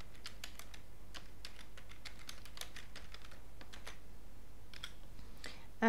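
An email address is typed on a computer keyboard while signing up on a website, making a run of quick, close key clicks in uneven bursts with short pauses, with no talk.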